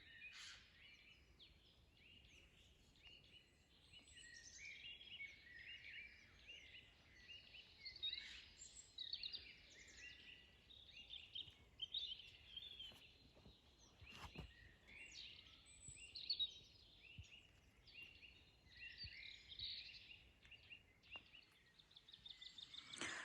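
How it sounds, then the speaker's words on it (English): Forest birds singing in overlapping chirps and trills, moderately distant and fairly soft, steady over a quiet outdoor background. "let you guys enjoy the beautiful sounds that I'm hearing from the birds around"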